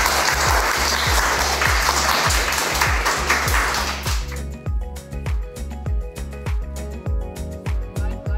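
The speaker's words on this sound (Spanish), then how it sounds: "Démonos un aplauso." At a school event for children coffee growers in Bruselas, Huila, the audience claps loudly for about four seconds over a steady, thumping music beat, then the music carries on alone with sharp rhythmic hits.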